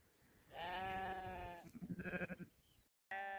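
Mother goats bleat loudly nearby, calling to their kids: a long drawn-out cry, then a rapid, stuttering bleat, and another call starting after a short pause.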